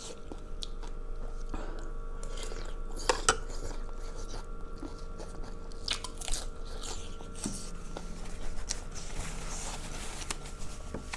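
Spicy squid salad being chewed close to the mic, soft wet crunching and biting through a quiet background with faint clinks of dishes or cutlery.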